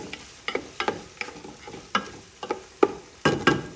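Meat frying in a pot for Persian lubia polo, with soft stirring scrapes and crackling sizzle recurring in uneven bursts, close by and fairly quiet with no talking.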